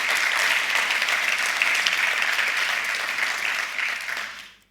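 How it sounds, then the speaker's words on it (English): A large conference audience at Flink Forward Barcelona 2025 breaks into sustained, dense applause, loud and steady throughout before fading out at the very end. "let's do a big round of applause for making Flink Forward possible"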